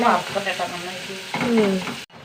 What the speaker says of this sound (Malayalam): വറുത്തെടുക്കട്ടെ